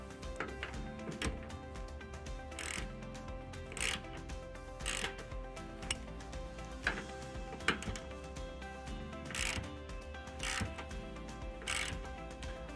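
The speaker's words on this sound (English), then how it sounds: "we'll go ahead and tighten it down using a 9/16 socket" A 9/16 socket wrench tightens bolts while installing air helper springs on a 2018 Chevrolet Colorado, with repeated short ratcheting clicks in spaced bursts, close up, and no talking.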